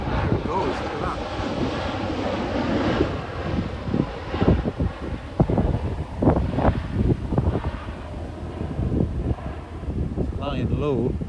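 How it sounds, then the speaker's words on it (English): A low-flying military bomber passes over a river floodplain in Wensleydale, a broad, rumbling roar that holds steady throughout, mixed with heavy wind buffeting against the microphone. "bomber thing coming over now"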